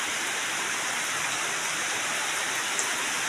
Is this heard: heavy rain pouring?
yes